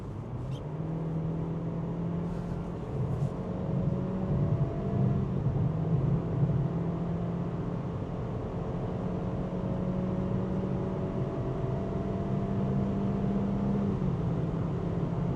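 A 2025 Honda Civic 1.5 Turbo Eco running on LPG climbs a hill, its engine a steady low drone with rising and falling hum under cabin road noise, no talking.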